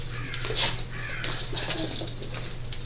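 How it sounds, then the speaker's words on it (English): Bird calls, with several cooing and cawing notes, sound over a steady background hum at moderate distance. "Where's that damn bird?"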